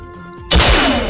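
A single sharp gunshot cracks out suddenly in a Roblox video game and rings on as a loud, close burst that fades slowly.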